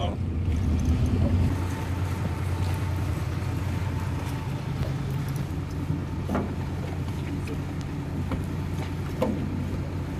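A steady low engine drone runs throughout from a 370 hp police motorboat running on water in Rotterdam's seaport, with a constant rumble and faint broadband wash over it.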